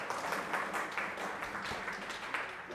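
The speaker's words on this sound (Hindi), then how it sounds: "जोरदार ताली से उनको धन्यवाद दीजिए।" Crowd applause at a church gathering, a moderate burst of many hands clapping in a dense, uneven patter that continues through the whole span, heard from within the room.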